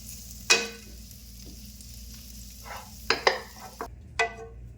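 A large onion frying in butter in a pan for spicy pasta, a faint low sizzle broken by a few sharp spoon scrapes and clinks, close and quiet, with no voices.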